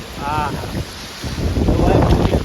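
Strong wind in a rain and wind storm batters the microphone with heavy rushing bursts, loud and close, while a voice speaks briefly early on.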